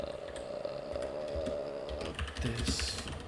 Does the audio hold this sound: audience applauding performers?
no